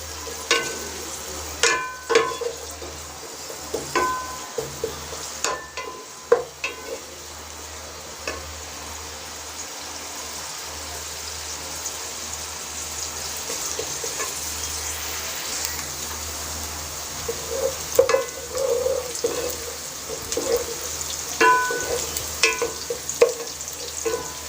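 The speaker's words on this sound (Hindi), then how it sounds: "प्याज को जो है हम लाइट ब्राउन फ्राई करेंगे।" Onion frying in a pan toward light brown, a quiet continuous sizzle with occasional sharp spatula clinks and scrapes, faint and close, with no talking.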